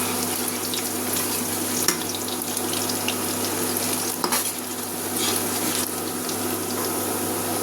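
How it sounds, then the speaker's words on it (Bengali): Onions fry on an electric stove in a home kitchen, a steady close hiss and sizzle with occasional scrapes and stirring clatter, no voices. "এদিকে আমি পেঁয়াজটা ভেজে নিচ্ছি।"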